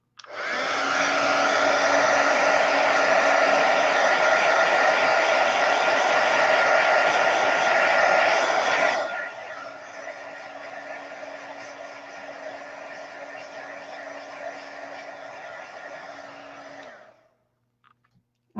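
A heat gun blows loudly and steadily for about nine seconds, drying watercolor paint, then drops to a lower setting with a faint whine before cutting off near the end; no talking.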